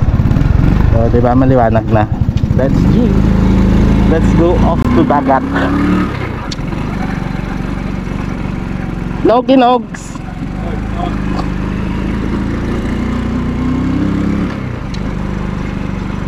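A motorcycle engine runs loud and close, revving as the rider sets off, then settles into a steady riding drone with shifts in pitch, while someone talks over it.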